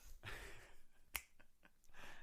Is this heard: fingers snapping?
yes